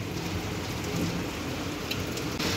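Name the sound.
heavy rain falling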